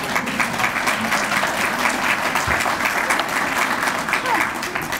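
Sustained audience applause after a talk about manufacturing and logistics careers, a dense, even roar of many hands clapping throughout with no break.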